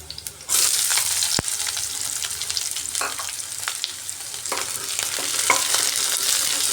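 Three chopped onions hit hot oil in a pan for a spinach dish, bursting into a loud, dense sizzle that holds steady with occasional stirring scrapes and crackles.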